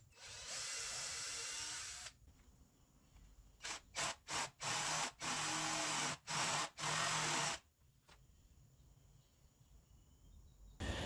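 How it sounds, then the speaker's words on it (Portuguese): A power drill bores holes in pieces that clamp a woodworking vise and spacer to a workbench top, a long whine followed by a series of short bursts, with quiet pauses and faint background noise between. "depois eu fiz a furação então dessas peças para prender a morsa com o espaçador no tampo da bancada"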